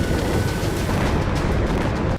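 Deep rumbling blast from a drone strike explosion in Russia, a loud, continuous low boom that fills about two seconds with no voices.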